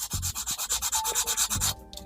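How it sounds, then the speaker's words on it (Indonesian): Sandpaper rubs back and forth on an untreated tree branch, a steady run of rhythmic scraping strokes, close and fairly loud, with no talk. "Nah, kita gosok yang sebelah sini."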